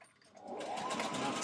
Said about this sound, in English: we're gonna stitch down the front pocket 1/4 inch seam allowance